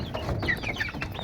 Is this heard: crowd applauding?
no